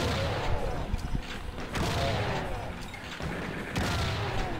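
A chaingunner enemy in the Doom mod KDiZD fires a steady stream of rapid gunshots, with booming blasts layered through the continuous barrage of combat noise.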